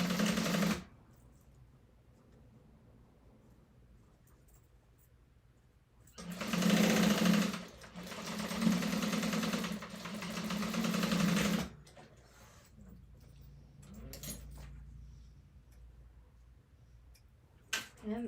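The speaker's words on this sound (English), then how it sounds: "we are going to stitch down that opposite side" Sewing machine stitching down the side of zipper lining pockets on a sling bag, a near, loud buzzing run lasting several seconds between quieter stretches with faint handling noise.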